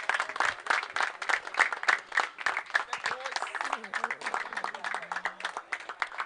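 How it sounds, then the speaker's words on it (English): Audience applause at a cricket tournament prize ceremony for both teams, close, distinct claps in a brisk irregular rhythm, fairly loud throughout with a few voices mixed in. "Big round of applause for both the teams."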